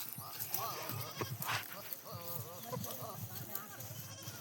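Goats bleat in a village setting, with several wavering calls scattered through the clip alongside a person speaking nearby and a background hiss.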